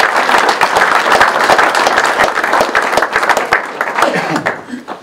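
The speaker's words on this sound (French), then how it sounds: "J'aimerais également qu'on puisse les applaudir" An audience at a firefighters' Sainte-Barbe ceremony in Malestroit-Ruffiac gives warm, close applause, dense and loud at first, then thinning into scattered claps toward the end.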